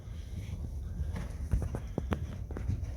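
A mare's hooves step over ground poles in a schooling exercise, a run of soft, dull thuds in an uneven rhythm over a steady low background rumble, moderately close and fairly quiet.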